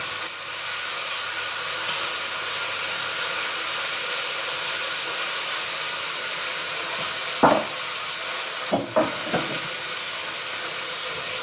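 Lamb pieces sear in a hot pan for a quick lamb sauté, giving a steady, loud sizzling hiss throughout, with a few brief utensil knocks and clatters near the end.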